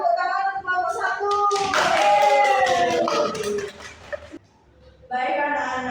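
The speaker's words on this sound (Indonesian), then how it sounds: "beri tepuk tangan untuk kelompok satu" Students in an Indonesian-language microteaching classroom clap for group one: a burst of clapping rises alongside voices and light laughter, then fades into a short quiet gap before talking resumes.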